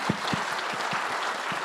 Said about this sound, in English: give me a round of applause to our